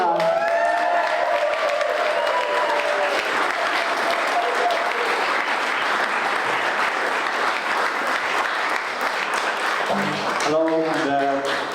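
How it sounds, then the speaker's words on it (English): A folk concert audience in Bailieborough bursts into loud, sustained applause with some cheering, a dense wall of clapping under a brief sung or spoken note at the start and the end. "Give them a huge Bailieborough round of applause."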